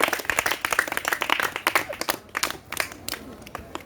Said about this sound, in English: So let us give a clapping offering to